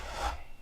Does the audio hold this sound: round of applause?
no